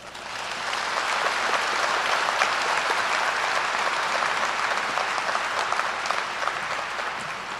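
Sustained applause from the audience at the Fox High School class of 2020 graduation fills the whole stretch: dense, even clapping from a large crowd with no voices over it.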